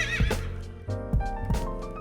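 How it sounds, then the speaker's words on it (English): A horse neighs loudly and close by, a long shrill whinny that breaks into shaking, stepped pulses and trails off. No other sound is present. "the horse neighs."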